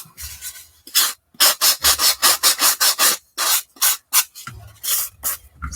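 Close rapid rubbing bursts of styrofoam being smoothed for a diorama, a quick run of even, rhythmic scrubbing strokes separated by short pauses, with no talking.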